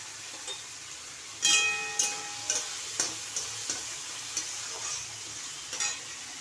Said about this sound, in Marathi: आणि आता हे टाकते हिरवी मिरची, कांदा आणि लसूण. चांगली फोडणी द्यायची.